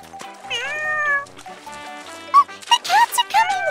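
Cartoon cats meowing in a children's outdoor toy show, several drawn-out tonal mews that grow louder and overlap toward the end, set over light background music and voices.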